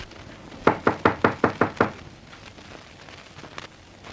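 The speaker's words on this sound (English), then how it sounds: "Knock." Knocking on a front door: a burst of seven sharp, evenly spaced raps, loud and close, followed by quieter, scattered faint taps with no talking.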